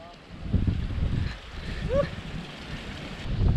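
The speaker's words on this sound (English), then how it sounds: "That wind's picking up a fair bit." Wind blows steadily outdoors in an Indonesian jungle, a broad rushing noise with gusty buffeting on the microphone, under faint voices.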